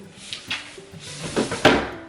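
Several books tumble off a shelf in a quick series of thuds and clatters, with a louder knock near the end, close by in a quiet room.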